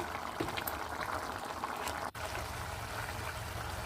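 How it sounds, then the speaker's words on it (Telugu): A pot of rajma curry simmers on the stove, a soft continuous bubbling and burbling of thick liquid at low volume, heard alone with one brief dip in sound partway through. "దగ్గర పడేదాకా ఉడకనిచ్చేసి ఫైనల్గా కొత్తిమీర వేసుకున్నామంటే మన రాజ్మా కర్రీ రెడీ అయిపోయిందండి"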